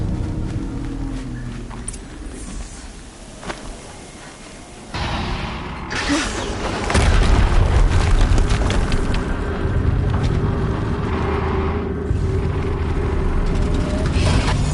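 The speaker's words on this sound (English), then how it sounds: "Another explosion." Explosions in the video game Horizon Zero Dawn, deep booming blasts with a loud rumbling surge around the middle that sustains to the end, over continuous game noise.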